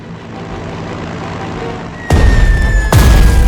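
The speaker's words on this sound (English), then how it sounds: "Select the second tactical bomber. Attack the enemy artillery." A tactical bomber strike on enemy artillery in the war strategy game Strategic Mind: Blitzkrieg lands as two heavy booming impacts after a low rumbling ambience, loud and close, with a whistling tone overhead.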